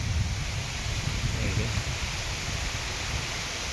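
Rain falling outside a house in Akhaura upazila, a steady dense hiss of drops that holds at an even level for the whole stretch, heard from indoors.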